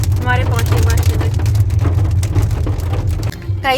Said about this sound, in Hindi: देखो बारिश आ गई है।